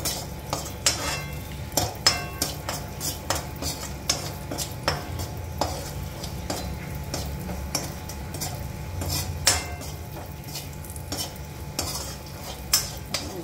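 Raisins stirred in hot oil in a pan for a homemade namkeen snack mixture: a steady, close sizzle broken by frequent sharp scraping and clinking strokes of the spoon against the pan, with no voices.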